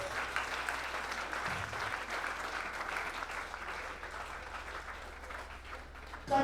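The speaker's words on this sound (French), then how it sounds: "Est-ce qu'on peut acclamer Jésus?" An audience at a Christian seminar in Martinique applauds Jesus: steady, dense clapping from a large crowd, sustained and fairly distant, continuing through the whole stretch without pause before a brief louder sound at the very end.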